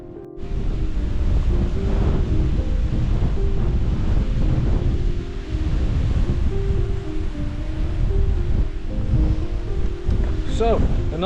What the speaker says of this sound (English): a nice treat there in the form of a little hidden waterfall